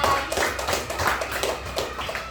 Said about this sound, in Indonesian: Tepuk tangan untuk Syahra